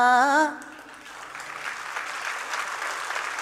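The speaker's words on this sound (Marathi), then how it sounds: "ह्या टाळ्या साध्या गाण्याला आहेत" Audience clapping after a song at an event, a sustained, fairly loud wash of applause swelling up right after a short sung note and continuing evenly to the end.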